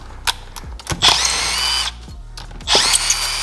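A power tool whirs in short bursts on the crusty head bolts of a Seadoo 717 engine, three loud high-pitched runs separated by clicks and brief pauses, close up with no talk.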